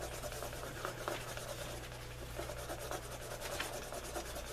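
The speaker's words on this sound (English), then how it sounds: "Just wet the edges, and then re-burnish them." Wetted leather edges are burnished with steady, close rubbing friction, a continuous dense scraping texture with faint rhythmic strokes and no talk over it.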